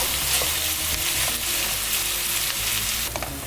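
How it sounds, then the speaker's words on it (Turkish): Minced meat sizzles loudly in a pan with fried onions as it is mashed and stirred for lasagna filling, a steady, close frying hiss with a sharper scrape of the utensil near the end. "Şimdi kıymamızı şöyle eze eze kavuracağız."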